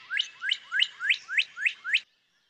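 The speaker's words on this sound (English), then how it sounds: "This northern cardinal song is a common early morning sound across much of the U.S." A northern cardinal sings a run of seven evenly spaced, upward-sweeping whistled notes, clear and fairly close, then stops into silence.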